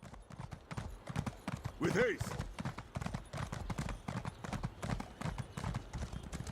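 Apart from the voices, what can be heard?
horse hooves clip-clopping in Elder Scrolls Online video game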